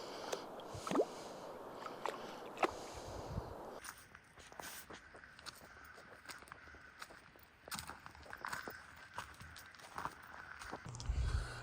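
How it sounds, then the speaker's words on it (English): Bare feet in flip-flops wading in clear creek water in a redwood forest, with soft squishy splashes and drips close by, a change in texture partway through, and a few sharper splashes near the end. "Got my feet in the water."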